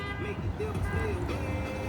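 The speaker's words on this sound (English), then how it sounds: "And why is he honking?" Car horns toot amid busy traffic near Las Vegas airport after a crash involving a bus and a car, with short honks over a constant road rumble while people talk throughout.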